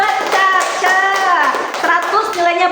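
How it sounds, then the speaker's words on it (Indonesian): Children in a classroom clap for a classmate, a quick rhythmic patter of small hands mixed with loud chanting children's voices throughout. "Tepuk tangan buat Caca."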